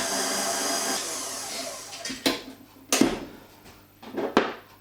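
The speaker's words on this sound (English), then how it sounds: "Mix the flour and the baking powder, bicarb and ginger. Just give them a whiz." A food processor whizzes flour, baking powder, bicarb and ginger for a Yorkshire parkin mix: a steady close whirr at first, then three short sharp pulses of the motor with quieter gaps between them.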